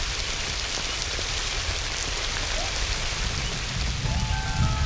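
Heavy rain pours across the savanna at the edge of the desert in Shaba, a dense, steady hiss of drops drumming on the ground that holds evenly throughout with no voices.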